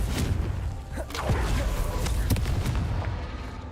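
A Confringo spell explodes in a Hogwarts video game: a string of short booming blasts and thuds, fairly loud, set over a dense rumbling bed of game noise.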